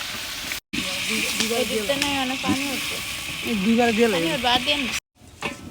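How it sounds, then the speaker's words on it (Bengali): Chicken frying in oil for biryani, a steady hissing sizzle running throughout, with a person talking over it and a couple of abrupt cuts to silence. "এখন চিকেন ভাজা হচ্ছে, মুরগি ফ্রাই করতেছি।"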